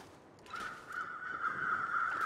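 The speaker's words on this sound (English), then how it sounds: "Another group of crows over there." Crows cawing in The Long Dark, a harsh drawn-out caw from a flock at moderate distance, rising after a quiet moment and continuing in overlapping calls.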